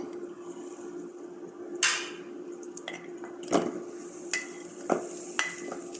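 Dates lightly sautéed in a pan, stirred with a utensil that scrapes and clacks against the pan in scattered knocks over a faint steady hum and soft sizzle.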